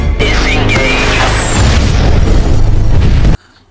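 A loud, sustained explosive boom of an RPG rocket fired at a helicopter wreck in a video game, with a long rumbling roar that cuts off abruptly.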